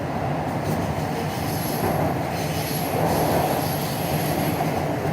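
A Kolkata metro train runs through the tunnel under the Hooghly river, giving a steady, loud rumble throughout with faint high wheel squeal and no talking.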